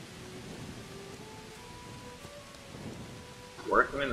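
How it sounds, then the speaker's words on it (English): Rain falling in the medieval game Kingdom Come: Deliverance, a soft, steady hiss with low rumbling underneath and a brief brighter burst near the end. "It's raining!"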